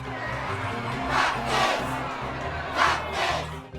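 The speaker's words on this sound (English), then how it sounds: "This also extends to the crowd cheering that happens during the match" Video game crowd cheering during a Skylanders battle mode match, a steady roar of many voices with two swelling bursts of louder cheers, no talking.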